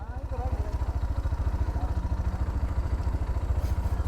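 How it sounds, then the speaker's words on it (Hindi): A motorcycle engine idles with a steady, low, pulsing thump close by, running continuously throughout, at the Pakistan–Afghanistan border. "मोटरसाइकिल इधर खड़ी कर दूँ?"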